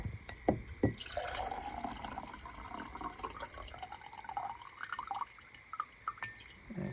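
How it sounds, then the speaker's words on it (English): Thawed ice water poured from an insulated water bottle into a cup, a trickling, dripping stream with a few sharper splashes and clinks near the start, close and fairly quiet throughout. "Pour some more here."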